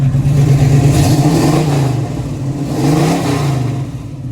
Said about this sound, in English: Let's listen to the engine sound.